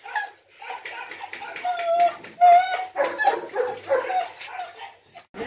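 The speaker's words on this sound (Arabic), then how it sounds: "الشباب بتوعنا هم بينظفوا الكلاب الجولدن" Golden retrievers whimper, yip and bark close by in a busy run of high whines and short barks, with people talking over and between the dog sounds.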